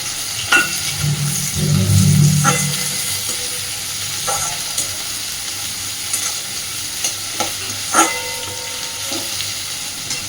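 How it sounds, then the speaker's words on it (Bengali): Chopped onion and green chili hit hot oil with garlic, a loud sizzling burst early on, then a continuous fry broken by sharp spoon-on-pan scrapes and taps as the mix is stirred; no one speaks. "এইবার এর মধ্যে দিয়ে দিচ্ছি পেঁয়াজ কুচি আর কাঁচা লঙ্কা কুচি।"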